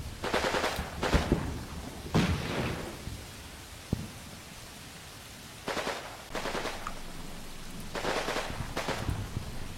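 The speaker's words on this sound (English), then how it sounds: "Two section under Corporal Bartlett move up in towards 3 section positions to support them with a firefight to begin getting fire superiority." Machine gun bursts in a military firefight, several rattling volleys of rapid fire separated by short pauses, with a single sharp shot between them, heard at moderate distance.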